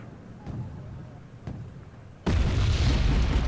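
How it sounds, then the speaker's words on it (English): Pivonka artillery shell landing in the war strategy game Wargame Red Dragon: two faint distant thumps, then a loud, sustained rumbling blast that fills the rest of the moment. "Another big salvo comes in, or at least a big shell from the Pivonka"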